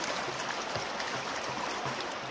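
Water sloshes in a gold pan as it is tilted and lifted up and down while panning for gold in the UK. A steady, close, loud wash carries soft rhythmic surges and no talk.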